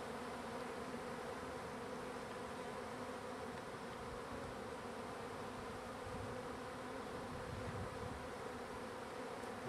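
A swarm of honeybees buzzes continuously during capture in northeast Washington, a dense, steady drone at moderate distance with no voices.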